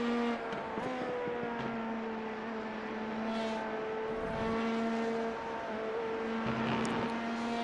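A Honda Performance Development (HPD) engine in an LMP2 prototype lapping Le Mans in a racing video game, its steady high-pitched whine holding nearly constant with small pitch dips, moderately loud and with no speech.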